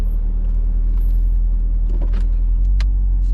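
A 600-horsepower supercharged Cadillac CTS-V driving through city streets, heard from inside as a loud, steady low engine drone with faint rattles and clicks on top.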